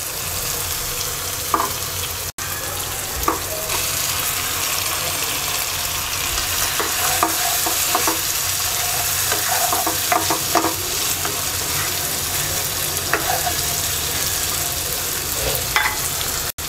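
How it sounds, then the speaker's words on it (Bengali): Fried hilsa fish pieces go into a pan of tomato curry and are stirred, giving a steady close sizzle with scraping spatula strokes and clinks throughout. "এবার ভাজা মাছ দিয়ে দিচ্ছি"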